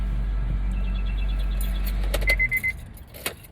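A knocking car engine idles with a steady low rumble and a faint repetitive ticking, hood open, then cuts off, leaving a few metallic clinks and rustles.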